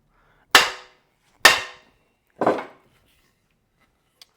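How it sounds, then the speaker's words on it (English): A timber rafter is struck three times to seat it down, giving sharp, loud wooden knocks about a second apart, with the third slightly duller, followed by a faint tap. "I'm gonna hit it one more time, see if I can get it set down any further."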